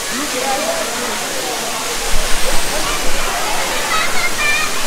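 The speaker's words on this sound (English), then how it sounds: "that's why it's called the Five Falls." Five Falls waterfall at Courtallam, Tamil Nadu, roars as a steady, loud broadband rush of crashing water throughout, with some splashing bursts toward the middle.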